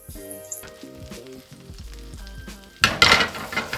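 Cabbage basting in melting, sizzling butter in a pan. Soft musical tones come first, then a burst of loud crackling sizzle takes over and keeps going to the end.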